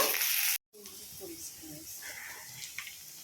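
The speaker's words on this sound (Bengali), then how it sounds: "এখন পেঁয়াজ আর কাঁচা লঙ্কাটা আমরা ভেজে নেব" Chopped onions and green chillies fry in oil: a loud hiss at first, a sudden brief cut, then a quieter, continuing sizzle with faint low voices in the background.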